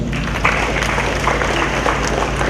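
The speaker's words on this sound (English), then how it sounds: "Let's give them a round of applause" An audience at a police Blue Mass in 2015 claps steadily, a dense, even round of applause filling the room throughout.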